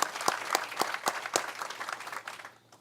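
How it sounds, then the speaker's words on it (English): A small audience at a business interview event gives scattered applause, with a few sharp distinct claps standing out before the clapping thins and fades away. "I think that deserves a round of applause."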